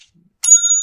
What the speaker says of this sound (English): Oh, you want the bell now?